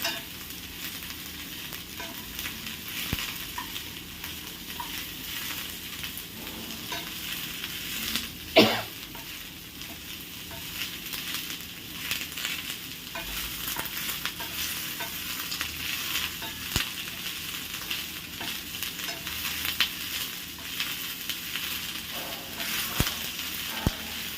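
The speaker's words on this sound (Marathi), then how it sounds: "ह्याला थोडंसं लालसर छान भाजून घ्यायचं आहे कांद्याला" Sliced onions frying in a pan until reddish: a long, even hiss and crackle at moderate loudness, with faint stirring scrapes and one brief sharp knock partway through.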